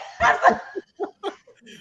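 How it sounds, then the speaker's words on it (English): A dog gives a few close barks and yips, two louder barks followed by several shorter, softer yelps and whimpers. "Nah, that's my dog right there"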